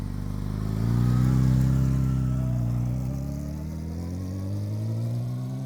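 A high-speed vehicle approaches at night, its engine swelling to a loud peak and then falling in pitch as it passes and recedes, alone without talk.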